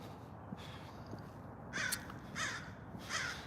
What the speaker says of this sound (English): We got some crows making noise.